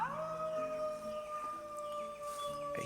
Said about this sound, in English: Sounds like a person howling.